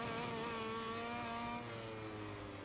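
A MotoGP racing motorcycle in the MotoGP 21 game held at full throttle on the San Marino circuit, a steady high-pitched engine howl that dips slightly in pitch partway through, loud and continuous with no speech.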